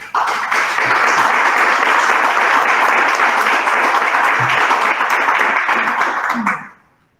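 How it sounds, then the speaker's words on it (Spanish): Warm audience applause greets a presenter at an education and beauty lecture series, dense steady clapping that holds evenly for about six seconds before cutting off abruptly near the end. "Lo recibimos con un cálido aplauso."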